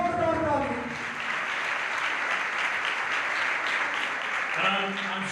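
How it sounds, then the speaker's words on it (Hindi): A congregation at a sermon bursts into loud, sustained applause, a dense wall of clapping that fills the space, with a voice speaking at the start and again briefly near the end. "जोरदार ताली"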